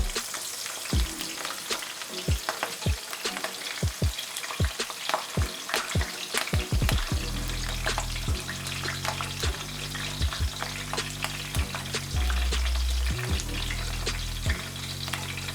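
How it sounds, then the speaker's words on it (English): Peppers fry in garlic-flavored oil with a bright, steady sizzle, punctuated by sharp spatters and crackles, close up, while background music plays under the later part; no one speaks. "Next, I'm gonna go ahead and fry the peppers for just a little bit longer"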